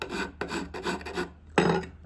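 A hand file rasps along a blade edge during sharpening, a series of close, even strokes with short pauses between them, followed by one final heavier pass, with no talking.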